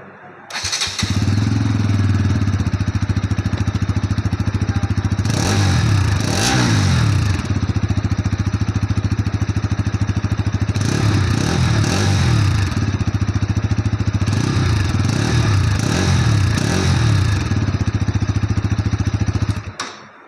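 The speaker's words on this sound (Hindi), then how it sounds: "तो चलिए अब मैं आपको इसका एग्जॉस्ट का नोट दे देता हूँ।" A 2023 Bajaj Pulsar NS 200 motorcycle idles loudly and steadily, its exhaust note rising in three sharp throttle revs before settling back to idle each time, with no talking.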